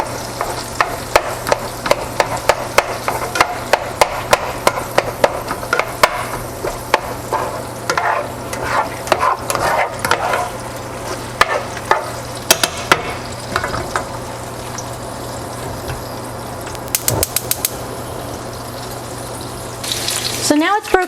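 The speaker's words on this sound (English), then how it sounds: "I've been stirring it up just to make sure that everything is good and stirred." Ground meat fries in a pan with a steady sizzle and is stirred throughout. A utensil scrapes and taps the pan again and again, close by, with water running briefly near the end.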